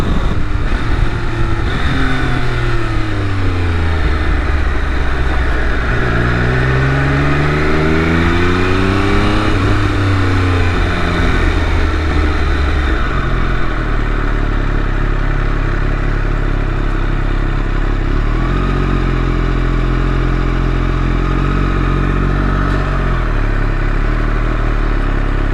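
A Triumph Daytona Moto2 three-cylinder motorcycle engine roars loud and close, revving up and down through rising and falling sweeps, then settling into a steady rumbling drone.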